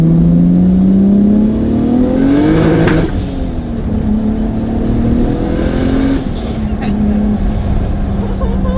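Honda S2000 with a widebody kit, heard from inside the car as its engine pulls hard under acceleration, the loud rising drone climbing in two sweeps with a shift between them, while people talk over it.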